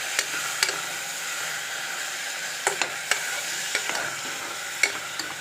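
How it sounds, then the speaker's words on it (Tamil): Tomatoes and green chillies sizzle with onions in a pan for a mushroom biryani, a soft steady fry broken by light scraping stirs and clicks of a spoon. "தக்காளி, பச்சை மிளகாய் இதெல்லாம் நல்லா வதங்கி வரட்டும்."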